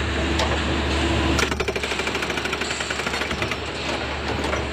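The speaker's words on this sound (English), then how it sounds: "stand there and watch how the hydraulic breaker works" An excavator's hydraulic breaker hammers in a rapid, regular series of loud pounding strikes after a steady engine drone, continuing at an even rhythm to the end.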